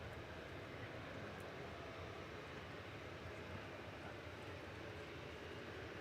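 A Jet2 passenger plane arriving at Manchester Airport, a steady broad engine roar heard from a distance, even and unbroken throughout.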